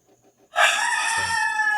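A rooster crows once, close and loud, a bright sustained call that starts abruptly after a few faint clucks and carries on to the end.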